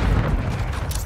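Grenade blast in the Modern Warfare 3 team deathmatch game, a loud deep boom with rumbling low end filling the short moment, mixed with surrounding battle noise.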